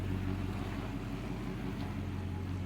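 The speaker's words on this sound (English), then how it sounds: "You guys hear that exhaust? He's got the MBRP cat back on this." A Ram 2500 pickup fitted with an MBRP cat-back exhaust idles close by, a steady low, droning rumble that runs unbroken throughout.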